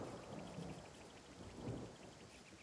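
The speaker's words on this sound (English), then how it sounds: "You're in a nice big cluster over there, but it is raining." Rain falls in the video game Divinity: Original Sin, a faint steady patter with low rumbling swells, heard alone without voices.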